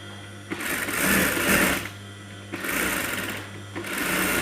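A sewing machine stitches a kameez ban collar in steady bursts of running motor whir, pausing briefly between runs, close and loud with no talk.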